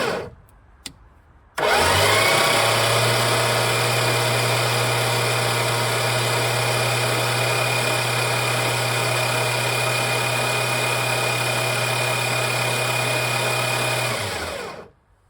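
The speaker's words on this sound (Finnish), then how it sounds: "Sitten päästäänkin pyörittämään moottoria startilla, sikäli kun starttimoottori toimii." A 1966 Plymouth Belvedere engine spun over by its starter motor with spark plugs removed, a steady, even whirring crank that runs loud and unbroken for about thirteen seconds after a few faint clicks, then winds down.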